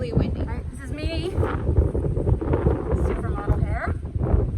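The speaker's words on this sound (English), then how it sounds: "Sorry for the shaking, but it is really windy." Heavy gusts rumble and thump across the microphone high on the Pilgrim Monument in Provincetown, a dense, loud low roar that persists throughout while people talk.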